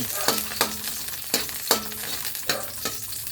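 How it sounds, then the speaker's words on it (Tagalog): Garlic sautéing in a pan for a mung bean and pork dish, giving a bright sizzle punctuated by five evenly spaced spatula strokes scraping the pan. "Gisa na ng bawang."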